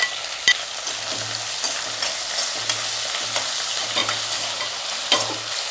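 Onions and curry leaves fry with cloves in a hot pan, a continuous crackling sizzle with scraping stirs of a spoon against the pan and occasional sharp pops, heard close up with no voices.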